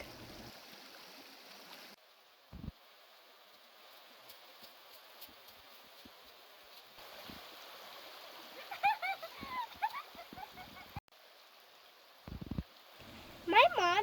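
A creek in the Vermont woods trickles and burbles steadily, with occasional splashes as children play by the water and voices talking on and off.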